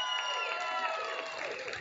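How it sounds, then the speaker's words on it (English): Crowd cheering and applauding at Long Island PrideFest, a dense outdoor wash of claps with whoops and raised voices running steadily through. "let's give everyone a round of applause for coming out today"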